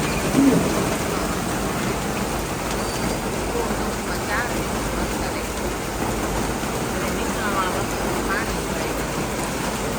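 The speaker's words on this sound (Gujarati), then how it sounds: "જો વરસાદ કેવો આવે છે જો જો દેખાય ને કેવો વરસાદ આવે છે" Heavy rain pours down in a steady, dense wash of hiss that runs through the whole stretch without letup, with voices talking faintly over it.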